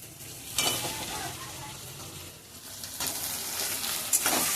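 Boiled potatoes frying in a little oil keep up a soft, close sizzle, with a few louder scraping bursts as they are stirred around the pan.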